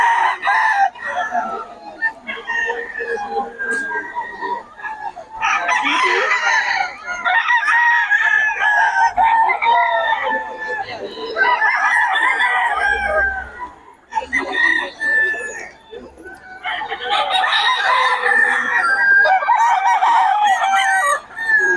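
Several Peruvian gamefowl roosters crow in repeated bursts at a busy poultry gathering in Bocaue, with clucking and background chatter between calls, loud and close.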